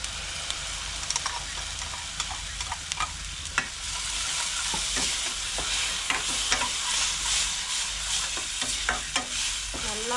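Onions and tomato sauté in a pan for a village dinner, a continuous bright sizzle broken by the scrape and clatter of stirring, close and steady with no talking.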